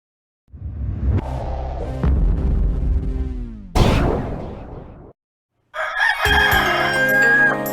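A rooster crows in a chicken restaurant radio ad for a golf and country club, a loud, close cock-a-doodle-doo repeated in several long calls with brief gaps, alone without talk.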